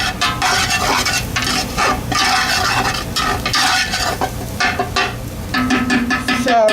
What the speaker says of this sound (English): So we add the flour and we stir it in and give it a good stir.